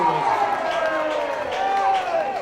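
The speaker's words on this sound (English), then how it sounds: "And the crowd go wild there." A crowd cheering at a 2003 A-Grade football grand final between ROCS and Port Districts, a steady loud roar of many voices throughout, with a commentator talking over it.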